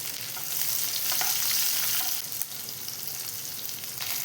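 Cumin and chilies sizzle in a spoonful of hot ghee in a pan, a steady bright frying hiss with small crackles and a brief stir, close and alone without talk.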